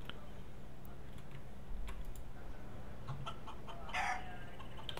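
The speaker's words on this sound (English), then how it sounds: "Stupid chicken. It's like, get out of here!" A chicken clucks and crows in Counter-Strike: Global Offensive on the cs_italy map, faint and intermittent over steady game ambience with clicking keys nearby.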